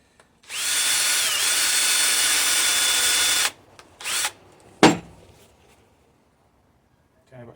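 A power drill bores through a Nike sneaker with a fiberglass layer for homemade roller skates, a loud steady whine lasting about three seconds, followed by shorter bursts and a sharp clunk.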